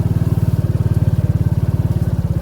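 An off-road motorcycle chugs along a rough dirt track through sugarcane fields, its engine close and loud with a fast, steady pulsing throb that holds an even pace the whole time.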